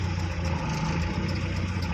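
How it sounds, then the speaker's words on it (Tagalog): A Mitsubishi L300 van's engine hums steadily while driving during a driving lesson, a low continuous drone with no talk over it. "pakinggan mo makina pag nang ugong"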